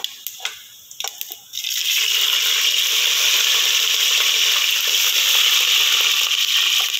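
After a few clicks and taps, green chilies hit hot oil with cloves, cardamom, cumin and cinnamon and set off a loud, steady hiss of frying that continues without a break.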